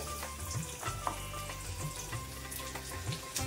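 Chopped onion frying in hot oil for misal pav, a dense, steady crackling sizzle with a few soft utensil knocks throughout and no one speaking.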